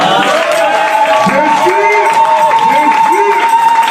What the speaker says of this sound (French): Bon, une fois de plus à lui la gloire, nous l'acclamons encore.